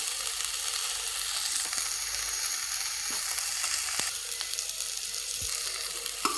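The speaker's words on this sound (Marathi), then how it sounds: "आपल्याला सर्व भाज्या ज्या आहेत त्या आपल्याला 2 ते 3 मिनिटापर्यंत परतून घ्यायच्या आहे." Mixed vegetables for Maggi sautéing in a pan, a continuous close hiss of frying with a few faint clicks of stirring, no voices.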